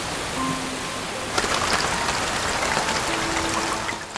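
Sudden summer rain shower in a Korean film scene, a steady hiss of rainfall pattering on surfaces that swells partway through and holds, with faint background tones and no talking.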